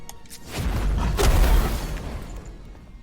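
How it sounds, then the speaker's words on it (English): A Fire Breath attack in the video game Earthlock: a loud, deep whooshing burst that swells and rumbles for a couple of seconds before fading. "Alright, I think we're going to use the Fire Breath."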